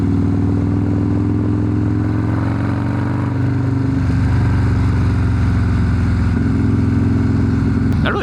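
Perewitz custom Harley-Davidson Softail Slim cruising in third gear, a deep steady loping V-twin rumble up close, with a slight rise in throttle partway through and no talking.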